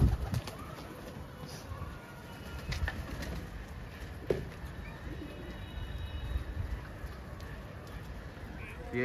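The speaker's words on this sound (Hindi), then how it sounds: "ये बहुत सारे कबूतर लगे हुए थे दोस्तों," A flock of Patiala pigeons coos softly amid busy outdoor background noise, the calls faint and scattered rather than prominent.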